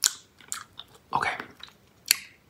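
Close, soft chewing and biting on a Warheads Ooze Chewz sour rope candy with a sugar-coated shell: a few separate moist, crunchy bursts spaced apart, with no talking.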